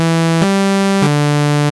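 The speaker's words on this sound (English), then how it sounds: "I started with an initial serum patch" A Serum synthesizer patch holds bright, buzzy sustained notes rich in harmonics, stepping through three pitches in quick succession before cutting off cleanly, loud and alone.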